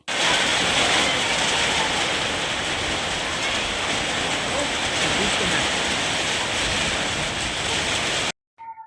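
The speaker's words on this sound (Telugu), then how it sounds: "ఫాల్స్ నుంచి వస్తూ ఉంటే చాలా పెద్ద వర్షం అయితే స్టార్ట్ అయిపోయిందనమాట" Heavy rain pours in a forest on the way back from a waterfall, a dense, loud, unbroken roar that holds steady for about eight seconds before cutting off abruptly.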